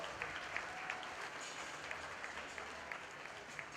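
Applause from the crowd at a 4-H and FFA market goat show, honoring exhibitors in the show ring; steady, fairly faint clapping with scattered sharp claps running throughout.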